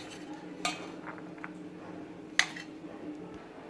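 A utensil scrapes and clinks against a pan while lemon rice is gently stirred, quiet mixing with two sharp metallic taps a couple of seconds apart.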